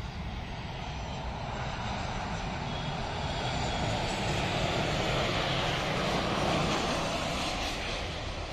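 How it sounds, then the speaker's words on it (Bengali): A China Eastern Airlines Boeing 737 from Kunming approaches to land at Dhaka, its engines a broad, steady roar that swells slightly as it nears. "এটি চায়না ইস্টার্ন এয়ারলাইন্সের এই বিমানটি এগিয়ে আসছে, চীনের কুনমিং থেকে ঢাকায় অবতরণ করবে"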